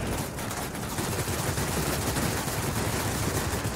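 Aircraft machine guns firing in the World of Warplanes video game, a dense continuous rattle of rapid gunfire throughout, loud and close with no talk.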